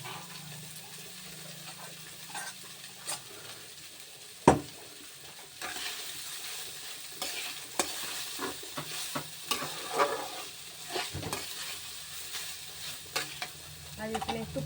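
Eggs frying in a pan and being stirred, a soft steady sizzle broken by sharp spatula scrapes and clinks, close and moderately loud, with no talking.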